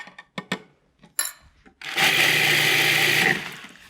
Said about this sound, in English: and grind them up. You want them pretty fine.